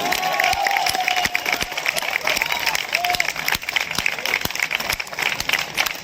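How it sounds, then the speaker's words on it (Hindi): Dense, loud applause from an outdoor audience for nautanki folk-theatre performers at an arts festival at the Chhatar Manzil complex, Kaiserbagh, Lucknow, steady for several seconds with a faint sustained tone underneath. "उन लोगों के लिए एक बार जोरदार तालियों के साथ।"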